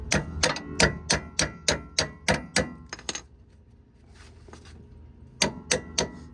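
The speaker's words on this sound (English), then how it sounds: "this is where your hammer is gonna come in place, because this stupid bolt gets stuck" Sharp metallic hammer blows strike a stuck bolt while installing coilovers on a G35/350Z, in a quick, even series, pause briefly, then resume with a few more hits, close and loud.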